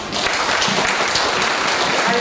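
A hall audience gives warm applause to distinguished panelists at the close of a discussion session, a continuous wash of clapping filling the room steadily throughout.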